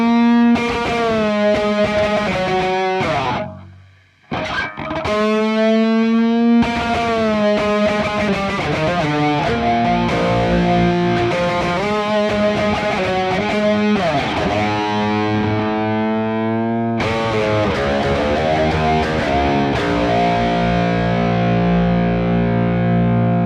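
Overdriven 5-string bass plays a solo through a dynamic wah, a thick distorted tone with sweeping filtered notes, loud and continuous apart from one short gap.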